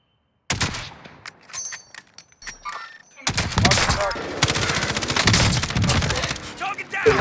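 Rapid gunfire bursts and fusillades from the video game Call of Duty Warzone, loud and dense, starting after a brief silence, pausing, then continuing as sustained near gunfire with scattered shots.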